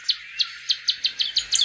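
Small birds chirp in a quick, even series of about eight bright, sharp tweets, close and clear, in a children's story reading about a farmer and his flower seeds, with no voices over them.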